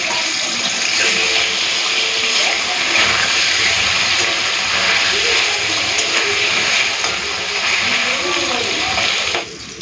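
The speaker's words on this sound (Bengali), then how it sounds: "আর 3 পিস মাছ আছে, ভেজে নিই।" Three pieces of small mourala fish fry in hot oil, giving a loud, steady, continuous sizzle and hiss that runs unbroken almost to the end.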